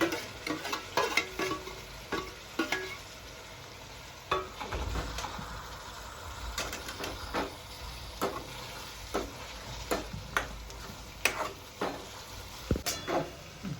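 Tomatoes fry with cooked onion in a pan for an egg ghotala recipe, a soft steady sizzle broken by repeated scraping and clinking strokes of a spoon stirring against the pan.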